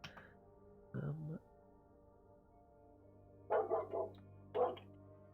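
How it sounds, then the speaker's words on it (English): A housemate's dog barks from another room, one short bark, then a pause, then a quick double bark and a final single bark, moderately loud against a quiet background with a low hum. "If you can hear my housemate's dog out there."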